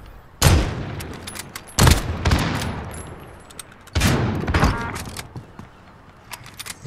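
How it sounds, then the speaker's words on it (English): Bursts of automatic gunfire in the Modern Warfare video game, three loud close volleys each trailing into rattling echoes, separated by brief quieter gaps. "I'm gonna shoot that"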